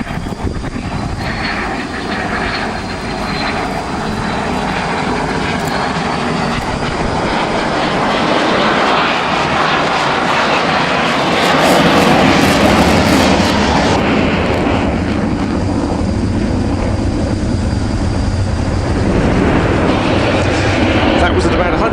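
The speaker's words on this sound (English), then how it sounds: "And another one of those high alpha" A Saab JAS 39C Gripen of the Hungarian Air Force makes a slow high-alpha flyby at an air display, a loud sustained jet roar that swells and shifts in pitch, with a commentator talking over it.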